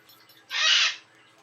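A single bird call rings out in the Ark Survival Evolved game world, one bright hooting burst lasting about half a second over near-silence.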